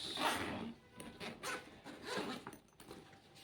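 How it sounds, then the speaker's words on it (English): Main zippers on a Guardian Gear Stallion motorcycle saddle bag are pulled open in a few short, raspy strokes, close and fairly quiet, with brief pauses between pulls. "Let's open the main zippers."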